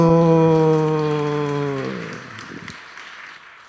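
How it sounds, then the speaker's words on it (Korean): A church choir's sustained final chord fades out and gives way to a rising spread of congregation applause, moderately loud in a reverberant sanctuary. "박수"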